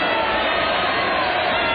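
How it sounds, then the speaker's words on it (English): A large wrestling arena crowd boos Vince McMahon, a dense, continuous roar of voices filling the space, steady and loud with no pauses. "They're booing."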